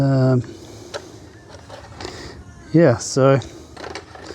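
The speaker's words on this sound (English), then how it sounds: "And then it just automatically loads the tape." A roughly forty-year-old Betamax video recorder automatically threads a tape, with faint mechanical whirring and small clicks from its loading mechanism running under and between short bursts of a man's speech.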